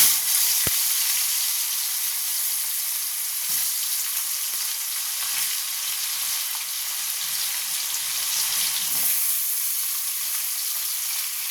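Potatoes dropped into hot oil tempered with nigella seeds give a steady, dense sizzle and hiss that runs unbroken throughout, close and fairly loud, with a few faint stirring knocks underneath.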